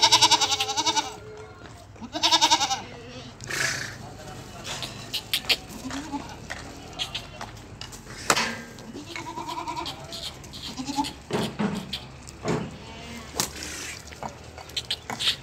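Goats at the Shahpur Kanjra livestock market in Lahore bleat repeatedly, some close and loud, others farther off, with someone talking among them.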